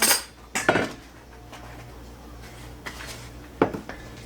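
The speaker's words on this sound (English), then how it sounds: "Give that a little stir" A utensil stirs a jam mixture in a container, giving a few sharp metallic clinks and scrapes at the start, then a quiet stretch, then another cluster of clinks near the end, close by with no voices.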